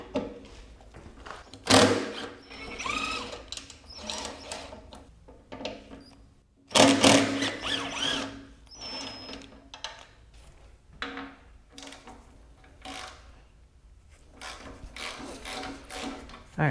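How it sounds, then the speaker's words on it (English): Ratchet wrench removing the fuel tank bolts on a Yamaha FZ motorcycle, with several bursts of rapid clicking separated by pauses and small metallic handling noises, close and fairly loud. "now we need to get these bolts off, which are actually what hold the tank on"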